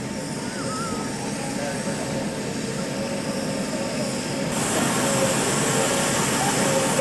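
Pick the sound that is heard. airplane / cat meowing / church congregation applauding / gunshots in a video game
airplane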